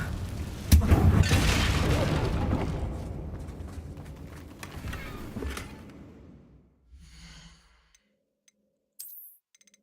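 A single Confringo blasting spell in Hogwarts Legacy lands as a loud, close boom, followed by a long rumbling decay that dies into near silence, with a faint chime near the end.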